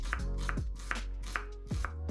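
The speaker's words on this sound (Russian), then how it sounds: "Одну луковицу нарезаем небольшими кубиками." A knife dices an onion into small cubes on a cutting board, a series of crisp, evenly spaced chops close up, with no talk.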